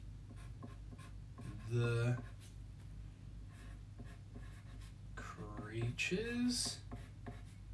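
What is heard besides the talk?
writing letters on paper with a pen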